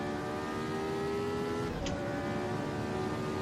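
A Formula Retro race car engine in a racing video game at the Johannesburg circuit drones at a steady high pitch, then shifts down with a brief whine, loud and continuous.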